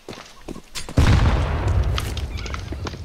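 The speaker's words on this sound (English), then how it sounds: "Grenade." A grenade explodes on the Inferno map in Counter-Strike: after a few light clicks and footsteps, a single loud, close blast erupts and rolls off into a long rumbling decay.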